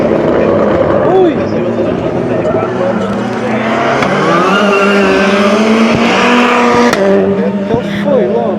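Rallycross race car at the Montalegre national championship, engines roaring and revving loudly as the car loses its rear in an overtake, with a commentator talking excitedly over the continuous racing noise.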